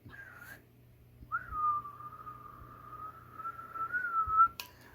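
A person whistles into the microphone of a Radioddity QT60 60-watt 10, 11 and 12 meter CB radio: one short note, a pause, then a long, steady sustained tone ending in a brief click.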